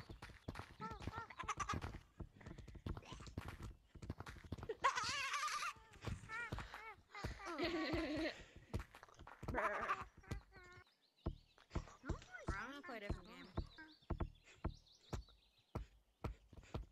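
Players in the Gorilla Tag VR game imitate goat bleats with wavering, nasal voices, overlapping loud calls near the mic that give way to laughter and chatter toward the end.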